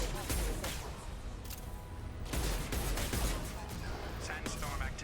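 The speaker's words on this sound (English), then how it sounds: "Firing a high impact shot." High impact gunshots fire in the Mass Effect 2 game, several heavy booming blasts spaced across the moment, loud and close over a dense rumbling background.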